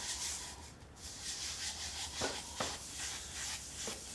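Someone rubs finish into a wooden table top by hand, which makes a soft, continuous rubbing and swishing close by, with a few light taps and no talking.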